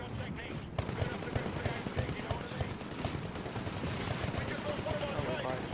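Rapid gunfire from the shooter game Titanfall rattles in dense, continuous bursts for several seconds, loud and close, with a low rumble underneath.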